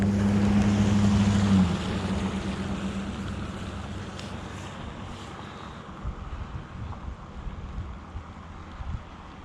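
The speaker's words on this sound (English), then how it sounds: "See that water flowing?" A roadside creek flows in a continuous broadband rush, mixed with wind buffeting the microphone and a low hum at the start that fades, with no talking.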